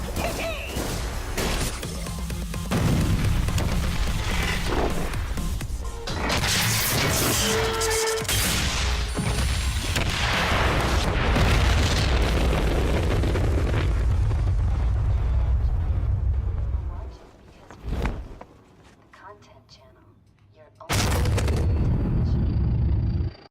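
Rocket explosions in a 2014 video game: a long run of loud, rumbling blasts and crashing impacts that cut off sharply near the end, then one last burst of heavy booms.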